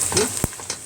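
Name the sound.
meat and onions frying in a pan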